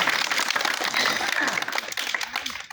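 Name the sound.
audience applause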